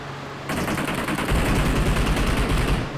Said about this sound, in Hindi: जेम्स पे भी गंदी फायरिंग हुई लेकिन वो बच चुके हैं भाई